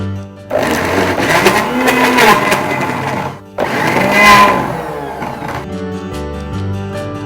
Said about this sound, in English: Now we are going to grind this mixture to a fine paste.